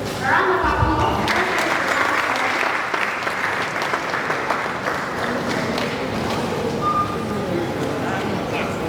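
Sustained audience applause fills a hall at a university valedictory lecture, loud and dense throughout with a few voices mixed into the clapping.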